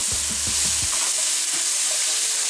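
Garlic and onions frying in olive oil for venison stuffed peppers, with a steady broadband sizzle and a few scraping stirs of a utensil through the pan early on. No voices.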